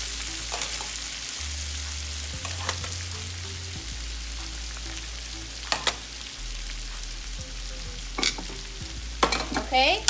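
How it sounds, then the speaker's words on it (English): Cooked egg noodle pasta tossed with tongs in a hot pan with garlic, a steady sizzle under scraping and clattering utensil sounds, close and fairly loud throughout with a few sharp clanks near the end. "Okay, we're gonna mix this up."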